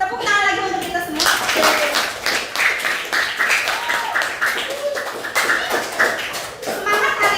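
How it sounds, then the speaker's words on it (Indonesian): A classroom of students claps their hands together, a dense run of sharp hand claps at close range with children's voices mixed in throughout. "Tepuk tangan lagi untuk kita semua."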